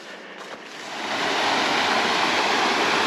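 A river rushing beside a narrow forest trail, a broad steady roar of flowing water that swells louder after the first second and stays constant and close.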